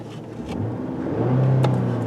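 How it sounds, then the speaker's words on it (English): A Dodge Charger engine revs up nearby, a rising mid-pitched roar that swells and holds for about a second with a faint whine on top, alone without speech. "We gave it the old rev up tune up"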